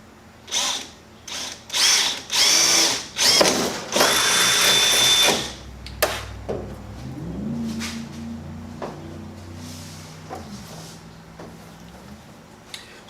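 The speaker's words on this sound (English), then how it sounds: "we're going to use an 11/64 drill bit to drill out those 2 holes." A power drill with an 11/64 bit drills holes in a Jeep Cherokee body, revving in several short bursts, then running longer, followed by quieter clicks and a low whirring as it spins down.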